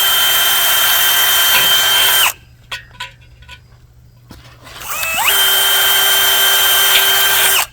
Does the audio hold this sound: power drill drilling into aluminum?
yes